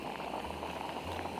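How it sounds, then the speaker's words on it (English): Water boils hard in a pot high on a mountain, a soft continuous bubbling and rumble, close and steady with no talk. "It's really boiling"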